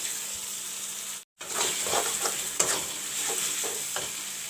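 Chopped tomatoes with masalas fry in a pan for a soya chunk and potato curry, a steady close sizzle with stirring scrapes and clicks after a brief silent gap, no talking.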